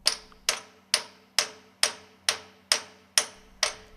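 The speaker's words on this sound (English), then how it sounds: "Tighten the bolts according to datasheet 1022." Steady metallic taps while the six bolts on a ship's stuffing box are tightened during an overhaul, eight sharp evenly spaced knocks roughly every half second, close and clear with no talking.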